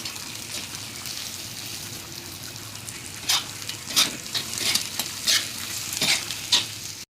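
Beaten eggs fry and get mixed into spicy anda thecha in a pan. A steady soft sizzle runs underneath while spatula strokes scrape through at a loose rhythm in the second half, up close.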